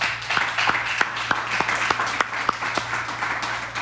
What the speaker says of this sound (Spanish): Dese un aplauso, por favor.